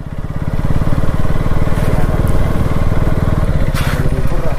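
A motorbike engine idles and putters close by at a steady rhythm, loud and continuous, as it rolls in and is brought to a stop for parking.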